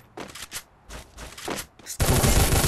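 Gunfire in the battle royale game Garena Free Fire during a headshot: several short separate bursts of shots, then a loud sustained barrage at the end, close and without talk.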